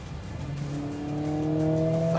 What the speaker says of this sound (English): when you put your foot down, you realize the might of this little engine.